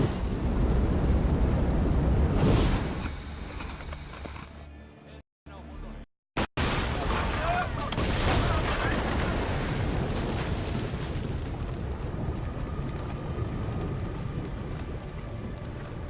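Ship cannons firing in the Assassin's Creed Odyssey video game, with loud booming blasts and rumbling explosions at close range, brief dropouts, then sustained roaring ambience with voices shouting over it.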